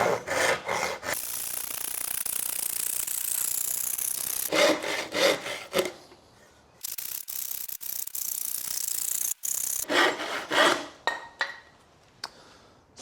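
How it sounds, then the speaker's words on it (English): Hand tool working wood for a lemonade stand sign, bursts of rough rasping strokes separated by pauses, with a mid-clip stretch of scraping and ratcheting, close and fairly loud. "so I'm gonna use a hand tool"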